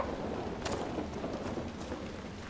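Steady rain falls in the fantasy video game Dragon Age Inquisition, a continuous even hiss of moderate loudness with no voices over it.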